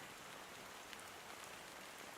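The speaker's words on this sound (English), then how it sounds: "how long has this rain been going on for?" Rain in the video game Honkai Star Rail, a dense, steady hiss of falling drops with faint scattered patters, continuous and even throughout.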